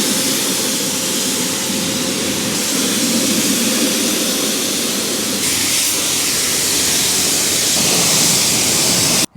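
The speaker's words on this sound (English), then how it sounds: "I'll give them a rinse down." Water from a hose or pressure rinse sprays steadily over the wheels of a 2007 Subaru WRX being detailed, a loud continuous hiss and splash that shifts in tone partway through and stops abruptly at the end.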